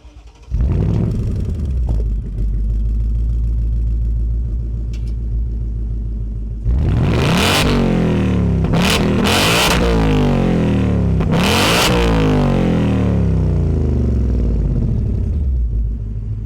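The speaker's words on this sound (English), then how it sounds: "Let's go ahead and fire it up so you guys can hear what that wonderful V8 sounds like." A 2025 Ford Mustang Dark Horse's naturally aspirated V8 fires up with a deep rumbling idle, then roars through three sharp, loud revs before settling back.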